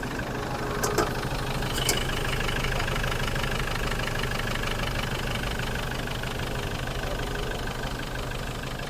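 A Hyundai Starex engine idles with a steady, even mechanical drone that holds throughout, with a couple of small clicks near the start and no talking.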